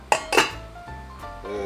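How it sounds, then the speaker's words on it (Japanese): A small metal pot lid for a camping pot and skillet, bought at a discount shop, clinks sharply twice and then rattles more softly as it is handled, close up and quiet. "鍋の蓋。"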